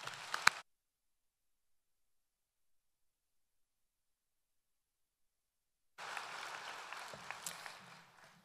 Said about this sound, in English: A round of applause for the faculty.